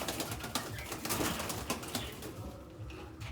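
Breeding pigeons flutter and coo faintly in a busy, noisy coop, with scattered wing flaps and soft rustling throughout.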